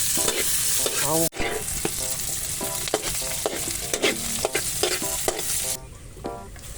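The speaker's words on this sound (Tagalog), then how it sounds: "Ilagay ang pampalasa. Igisa ng sama-sama." Spices and aromatics sauté together in a pan for a loud, dense sizzle, with frequent stirring scrapes and clatters up close and a brief drop in the sizzle near the end.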